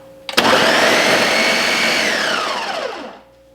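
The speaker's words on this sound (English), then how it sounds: "I've got it in my blender. I'm going to turn it on just for a really short period of time." A kitchen blender runs alone in one short burst of about three seconds, its loud whirring motor starting abruptly and winding down at the end.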